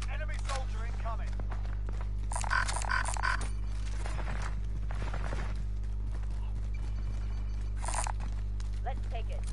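Horse hooves clip-clop in a Rebirth Island video game match, a run of quick rhythmic steps mixed with other game noises under players talking over voice chat.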